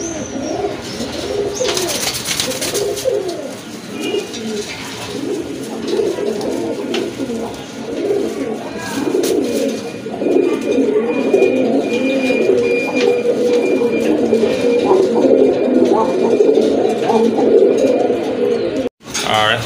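A pair of Rajgolla pigeons, a red hen and a mili-coloured cock, coo in soft repeated murmurs close by, mixed into a steady busy background while someone talks over them for much of the time.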